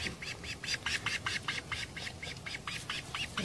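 Rapid, repeated high-pitched squawks from a bird chick, a steady series of short calls close by with a noisy background.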